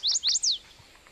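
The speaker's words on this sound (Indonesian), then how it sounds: "cuman sekarang yang terdengar hanya burung cengkurileng." Three quick, bright whistled notes from a cengkurileng bird rise and fall in close succession, loud and near, then fade into quiet.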